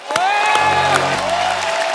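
Studio audience applause greeting a bhajan singer onto a comedy show stage, loud dense clapping with a few whoops, mixed under a sustained musical fanfare.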